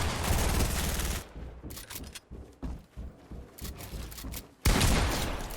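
Heavy shotgun fire in a Fortnite-style battle royale video game, with loud bursts opening and closing the stretch and scattered shots and game effects between them, heard alone without talk.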